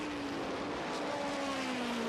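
NASCAR stock cars race at the 1980 American 500 at Rockingham, a steady loud engine roar holding a sustained drone that slowly drops in pitch, with no break through the stretch.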